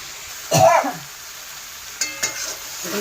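Food being stirred and sautéed in a pan over low gas: a short scrape and sizzle of a spoon moving through the pan, then a few lighter clinks in an otherwise quiet, steady hiss.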